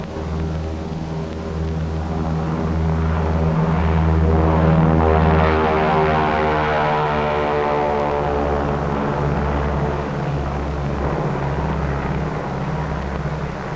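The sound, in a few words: B-29 bomber aircraft propeller engines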